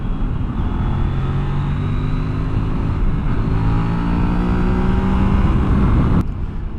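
A Kove 800X Pro adventure motorcycle cruising at highway speed, around 80 mph, with a loud, steady engine drone and wind roar that cut off near the end.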